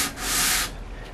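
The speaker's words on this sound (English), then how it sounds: "So by putting a piece of sandpaper on here, you can be assured that you're going to get an absolutely flat sanding surface." A wooden guitar fingerboard is rubbed over sandpaper on a flat surface, giving one loud, rasping stroke that swells and fades, followed by quieter scratching.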